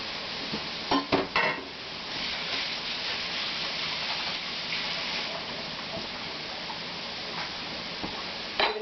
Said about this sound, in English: I'm going to use the same fork I've been using on the meat, just saute them around